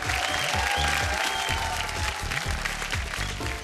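Studio audience applause on a televised cooking contest show, a dense steady clapping that holds for the whole stretch, fairly loud and close, with music or other sound running underneath.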